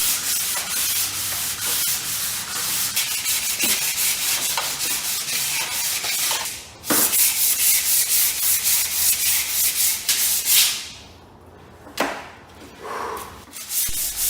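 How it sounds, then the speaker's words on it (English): Sandpaper rubs back and forth over a wooden Greenland paddle in loud, close strokes that run continuously, pausing a few times near the end, no voices. "sanding the paddle using 80 grit sandpaper, followed by 120, and then I go down to 250, and finally a grit of 400 before applying the oil."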